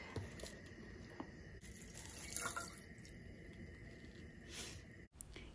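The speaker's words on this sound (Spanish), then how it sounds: "quiero poner a hervir agua con sal" Tap water runs steadily into a pot on a home kitchen stove, salted water meant for boiling cauliflower, a continuous moderate hiss and splash with a few brief clinks, then a sudden stop near the end.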